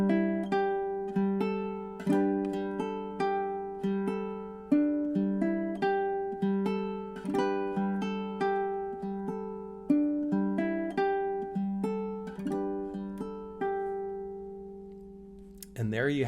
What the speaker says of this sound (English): It's a really fun summer tune to play on a low G ukulele.